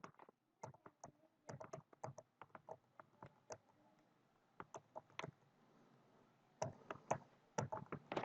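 Code is typed on a computer keyboard during Python statistics work, heard as irregular bursts of close, crisp key taps with short pauses and a denser flurry near the end, alone in a quiet room.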